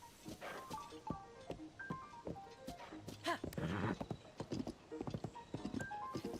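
A horse walks in a Zelda video game, hooves clip-clopping in a steady rhythm with a brief whinny, close and clear over the game's background music.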